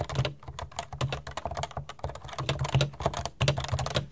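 Rapid, steady typing on a computer keyboard, either an IBM Model M or a Realforce 87u Topre, with close, dense clattering keystrokes and no pauses.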